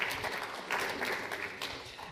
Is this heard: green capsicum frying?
no